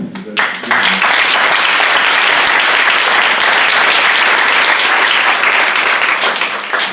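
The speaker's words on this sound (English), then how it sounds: "please, a round of applause for them" A crowd at a diversity conference breaks into steady, loud applause that holds for several seconds, dense clapping filling the room after a brief voice at the start.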